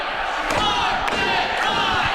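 Wrestling crowd at an NWA Wisconsin independent show chanting for a wrestler's signature move, a loud, dense wall of massed voices holding steady across the arena with a few sharp thuds cutting through.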